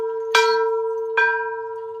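An old bell strikes twice, a loud clang followed by a second stroke under a second later, each leaving a long, steady ringing hum that lingers, with no voices.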